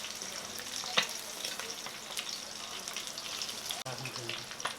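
Pieces of rui fish sizzle in hot oil in a pan over low heat, a steady crackling hiss with occasional louder pops and a brief utensil knock.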